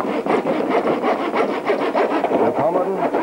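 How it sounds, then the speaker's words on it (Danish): A coping saw cuts by hand into the edge of a wooden workpiece, with close, even rasping strokes repeating in a steady back-and-forth rhythm. "Og jeg saver ned ude i kanten."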